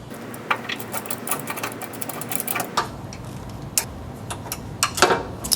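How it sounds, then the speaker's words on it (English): Bolts being tightened on a Matrix T3X treadmill's rear roller cover frame, giving a run of light, irregular metallic ticks and clicks at close range, a few sharper taps near the end, with no voices. "start both of the bolts, then place it onto the machine and tighten it"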